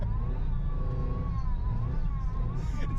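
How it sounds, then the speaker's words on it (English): A car's power steering pump gives a steady high-pitched whine that wavers slightly in pitch above a loud, low engine rumble, continuous throughout. "I think it is a power steering pump."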